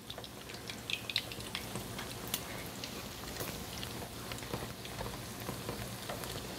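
Shiitake mushrooms coated in starch deep frying in hot oil at about 150 to 160 degrees, a steady close crackling sizzle with scattered sharp pops throughout.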